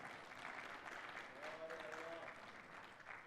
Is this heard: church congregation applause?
yes